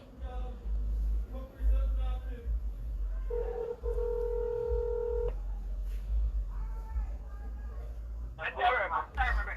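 Telephone keypad tones sound in a short burst of several beeps, with steady dial tones between and a voice talking around them, over low background hum.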